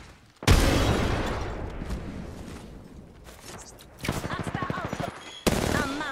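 A frag grenade goes off with a sudden loud boom during a match of the Apex Legends video game. Rumbling debris follows, then rapid close bursts of gunfire, and a second sharp blast comes near the end.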